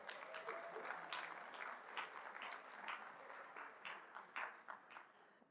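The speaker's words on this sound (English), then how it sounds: "Give them a round of applause." A conference audience in Denver gives a short round of applause, steady, dense clapping from a nearby crowd that fades slightly toward the end.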